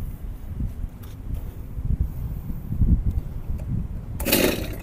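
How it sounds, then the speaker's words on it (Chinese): A STIHL MS251 chainsaw, pull-started with the throttle fully closed, gives a rough, low popping and sputtering as the engine catches briefly, followed by a sharper burst near the end. "哦，它有嘣嘣一声了"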